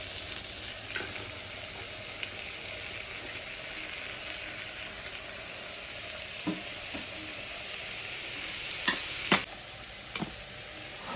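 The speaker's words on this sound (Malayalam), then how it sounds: "നമുക്കിതിലേക്ക് കട്ട് ചെയ്ത് വെച്ച് ബീൻസും ക്യാരറ്റും കുറച്ച് മല്ലിയിലൊക്കെ ഒന്ന് ചേർത്ത് കൊടുക്കാം." Beans and carrots stir-frying in a pan for fried rice, a steady close sizzle with scattered spatula scrapes and a couple of louder clanks toward the end, no voices.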